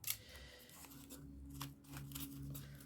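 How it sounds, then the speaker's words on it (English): Scissors snip through shiny book pages cut into small pieces for pockets, giving faint, close crunching and tearing sounds in a quiet room. "Those scissors aren't much good."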